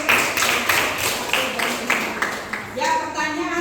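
Classroom group clapping hands together, a short burst of brisk applause from students under a teacher's lesson, with talk heard over it.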